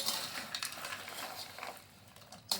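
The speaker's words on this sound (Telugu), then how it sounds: "ఈ పాకం అంతా కలిసేలాగా బాగా కలుపుకోవాలి" Jaggery syrup being stirred and tossed through fried sweet kaja chips, giving soft crackly patter and scraping rustles at a steady pace close by, with one sharper clatter near the end and no voices.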